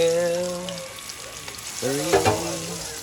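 Batches of food fry in hot cooking oil with a steady sizzle beneath clear whistling tones, and a brief rattle of stirring near the end.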